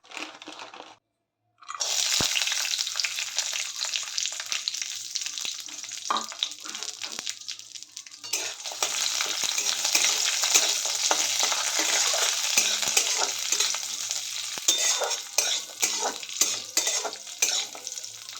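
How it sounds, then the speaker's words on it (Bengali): Cashews and raisins fry in white oil in a hot wok while being stirred, giving a steady crackling sizzle with scraping stirs and light clinks, starting after a brief silent gap and running continuously without talk. "এই সাদা তেলে আমি কাজু কিশমিশ ভালো করে ভেজে নেব।"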